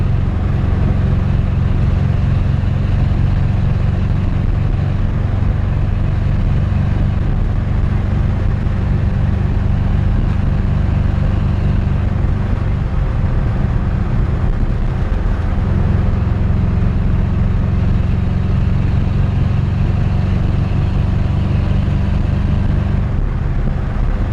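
A 1954 Chevrolet 3100 five-window pickup with a short exhaust drives along, its engine giving a loud, steady low rumble throughout with no talking.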